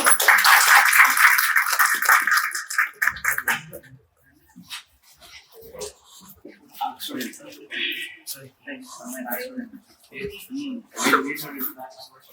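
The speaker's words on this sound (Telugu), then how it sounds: "క్లాప్స్ కొట్టండి." Loud audience applause at a film first-look launch event fills the first three and a half seconds, then dies away as a speaker talks over a quiet hall.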